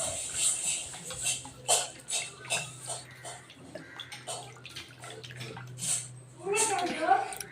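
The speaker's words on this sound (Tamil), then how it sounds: "இப்போது கைவிட்டு கட்டி இல்லாமல் நல்லா கெட்டியாக கரைச்சி வச்சுக்கணும்" Fish curry spice paste with salt is mixed by hand, making repeated wet squelching and dripping sounds in an uneven rhythm, close by, while someone talks over it.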